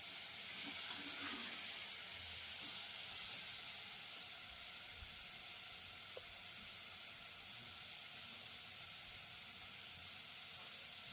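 Faint, steady sizzle of diced tomato pieces frying in a pan, a quiet, even hiss with occasional soft stirring.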